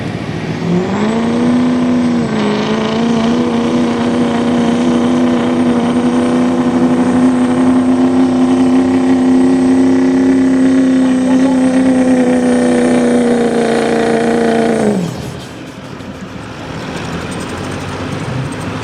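A diesel 4-1 limited pro truck at a diesel truck shootout holds a loud sustained high-rpm howl with a strong steady tone. After a brief dip in pitch it holds steady again, then cuts off sharply into a quieter idle near the end.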